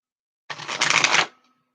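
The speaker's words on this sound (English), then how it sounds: "ask the person while I was shuffling the cards" A deck of playing cards riffle-shuffled once, a close, crisp burst of rapid fluttering clicks lasting under a second, with silence before and after.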